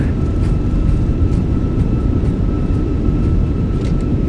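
A Fenix A320 airliner roars steadily and loudly with thrust reversers deployed during landing rollout in a flight simulator, with no talking.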